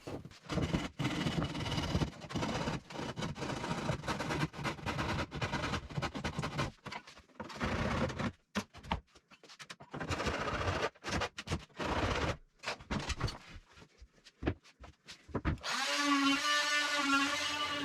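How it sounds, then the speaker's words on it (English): A handsaw finishes a cut into a workshop wall, giving a run of rough, rhythmic rasping strokes up close, with pauses between bursts and a brief tonal whine near the end. "and then I can finish off with a handsaw."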